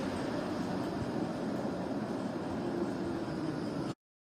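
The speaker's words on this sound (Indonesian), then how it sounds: "inilah ya tramnya yang menuju ke Hervanta" Tram heading to Hervanta in Tampere, running on street-level rails: a steady rushing rumble of the moving vehicle from inside, constant and fairly loud, cutting off abruptly at the end.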